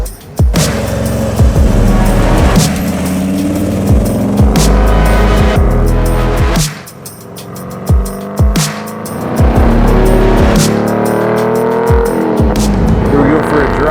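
An LT1-powered custom C1 Chevy Corvette drives along with a steady, close engine note and repeated shifts and surges, without talk.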